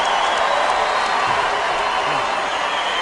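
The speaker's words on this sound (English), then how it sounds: "An appreciative crowd here in Las Vegas." Crowd at a UFC championship fight in Las Vegas gives a broad, sustained roar and scattered applause between rounds, a steady loud wash of arena noise.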